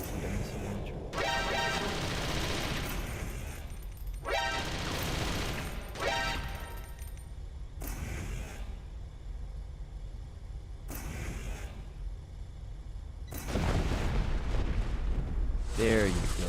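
In Metal Gear Solid: The Twin Snakes, a Nikita missile launcher fires and explosions follow. Heavy booming blasts and rumbles come in separate bursts with quieter rumbling gaps between them, growing loudest near the end.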